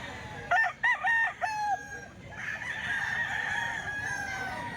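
An XBR-cross fighting cock crows up close, with a few sharp rising calls in quick succession followed by a longer drawn-out crow that trails off against a light outdoor background.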